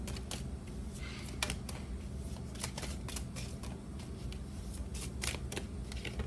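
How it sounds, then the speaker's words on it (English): Tarot cards shuffled and drawn, a quick crisp riffling and flicking of card stock up close, with brief sharp snaps over a steady low hum and no speech. "Let's get out a couple more cards."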